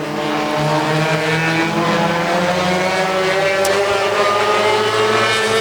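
Cars in a Hobbyfest heat race roar past with overlapping engine whines and shifting revs, loud and continuous, several motors layered close by; no talk is heard.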